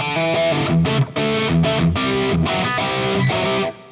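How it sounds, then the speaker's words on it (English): Electric guitar played through the Compulsion distortion model on a Fractal unit, a heavily saturated chugging riff of several short chord stabs with brief gaps, loud and alone with no talk. "If I want to have a distorted sound, I have to use, for example, the compulsion distortion is perfect."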